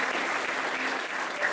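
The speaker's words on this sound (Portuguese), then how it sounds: "Vamos aplaudir ao Senhor Jesus." Church congregation applauding during a service in Taubaté, Brazil: continuous dense clapping from a sizeable crowd, even and sustained with no pauses.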